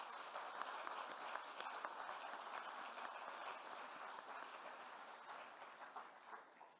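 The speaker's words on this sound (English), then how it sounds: "Please give them a round of applause." Commencement audience applauding at a graduation ceremony: broad, steady clapping from a large crowd, faint and somewhat distant, slowly tapering off over about seven seconds.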